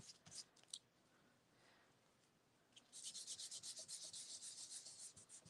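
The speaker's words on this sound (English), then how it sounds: "I just have to rub a bit harder" A hand rubs a print off a Gelli plate: a few soft scratchy strokes at first, a quiet pause, then a run of fast, rhythmic, close-up rubbing strokes with no talking.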